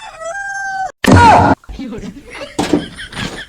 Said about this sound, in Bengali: এখন এই পেটের মধ্যে বাসি রাইতে মুরগি খালি কক কক কক করে